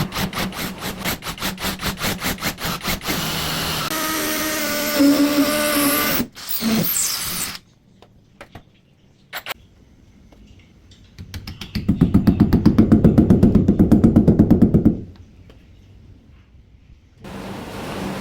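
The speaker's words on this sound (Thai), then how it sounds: "แล้วก็ลงมือเจาะผนัง" A power drill bores into a wall to mount a tilting, swivelling wall bracket (model P65) for a 50-inch Hisense TV. Loud mechanical whirring and grinding come in separate bursts with pauses between, and the longest, heaviest run is near the end.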